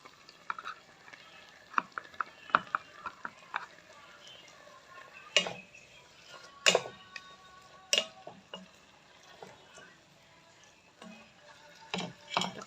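Chicken adobo with baguio beans stirred in a pot, irregular clinks and scrapes of a utensil against the pot over a soft simmer, with a few sharp knocks spaced through the stretch.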